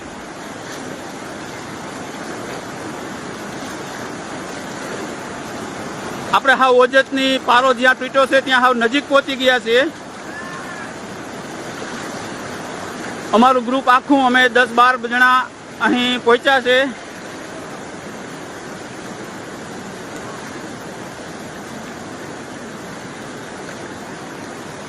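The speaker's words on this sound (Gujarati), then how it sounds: "પાણીનો પ્રવાહ બહુ છે." The Ojat river in Kutch surges through a breached embankment after heavy monsoon rain, a steady loud rushing roar filling the whole stretch while someone talks over it in two bursts.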